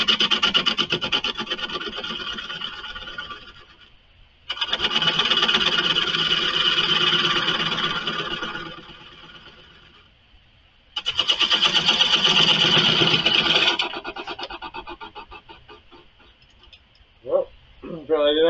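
Woodturning lathe hollowing out the inside of a white oak plate, a loud continuous scraping rasp in three long bursts separated by short pauses, ending with quieter tool noise and a brief clunk.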